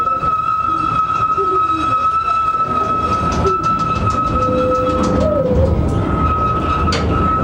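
Miniature park train at Bicton Gardens in Devon passing close by, with a sustained horn tone over rolling wheel rumble and clatter; people talk nearby.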